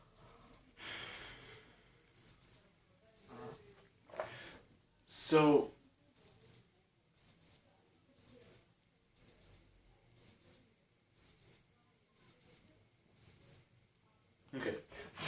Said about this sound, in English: okay, so that was an alarm.